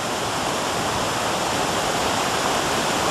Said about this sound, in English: this is the roaring water going down to the pond, back behind our cabin